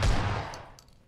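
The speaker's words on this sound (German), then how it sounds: "Alter, die schießen." Gunfire in the video game PUBG: one loud, close, sharp burst that rings out and fades over about a second, followed by a few faint, distant cracks.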